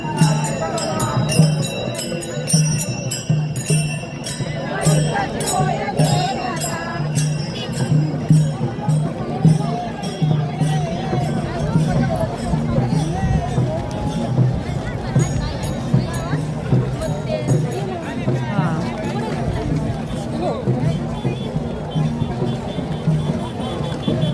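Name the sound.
crowd of devotees at Saswad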